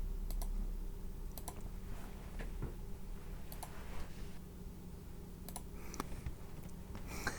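A computer mouse clicks several times in sharp, spaced bursts over a low steady hum, with no talking.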